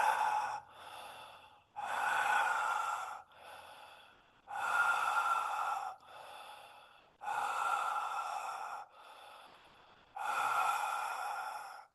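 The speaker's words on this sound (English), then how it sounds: "Keep on breathing into your belly, in your chest, in one rhythm." Deep rhythmic breathing from a guided exercise, strong inhales and exhales into the belly and chest alternating in an even cycle, close and clear with no talk over it.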